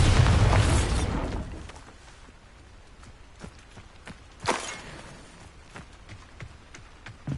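A Bombarda blast spell in the Hogwarts Legacy video game goes off as a loud, booming burst at the start and decays, followed by lighter footsteps and a second sharper pop midway.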